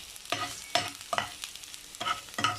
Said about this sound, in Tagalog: So ngayon ay igigisa na natin yung sibuyas.